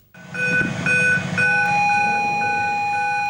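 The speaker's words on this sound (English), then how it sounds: "A deafening alarm sounds as fire spreads through the vessel" A deafening fire alarm rings through a ship simulator control room at a marine education facility, a loud, steady electronic tone with repeating pulsed beeps layered over it, continuous for several seconds with no talking.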